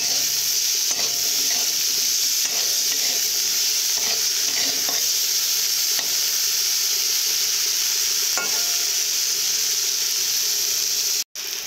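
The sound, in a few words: frying vegetables in a pan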